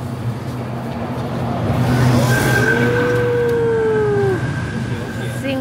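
A car passes close by on a rural village road, its engine rising and falling with a brief tire-like whine as it speeds past under steady background noise and some talk.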